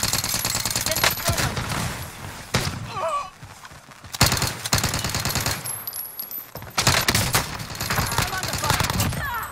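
Sustained automatic gunfire in Call of Duty: Modern Warfare, dense rapid bursts filling most of the stretch with a short lull in the middle, loud and close, with a voice shouting over it.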